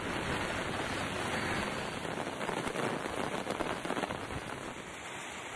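Heavy rain pours down across town streets at night in a dense, continuous hiss with scattered sharper drops, loud and steady throughout.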